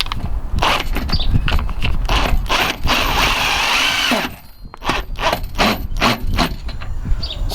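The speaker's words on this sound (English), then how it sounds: "once it's started, you can just use the wrench as normal" Wrench tightening a screw on a side skirt during installation on a 570 Defender, giving a loud run of rapid ratcheting clicks, a brief pause, then more clicking strokes close up.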